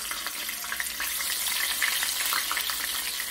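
Marinated tofu (tahu bacem) fries in hot oil in a home kitchen, a continuous close crackling sizzle with small popping spatters throughout.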